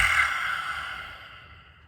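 A deep, drawn-out inhale during a pranayama breathing exercise, close and fairly loud, airy at first and slowly fading over about two seconds with no talk.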